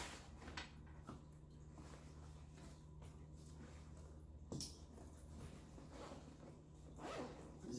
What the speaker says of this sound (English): Really nice zippers on the Tortuga.